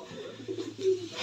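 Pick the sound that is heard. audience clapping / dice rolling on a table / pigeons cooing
pigeons cooing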